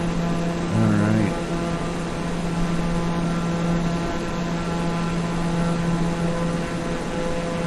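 A steady aircraft engine drone in a flight simulator game, holding a constant tone after a brief louder, shifting burst near the start as the throttle changes.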